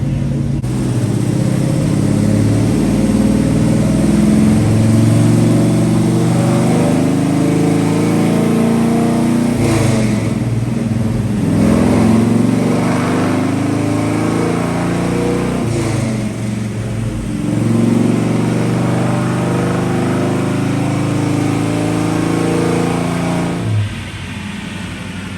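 A 1955 Chevy Fleetside truck engine roars on a dyno, loud and close, holding a sustained high rev with two brief dips partway through before dropping off near the end.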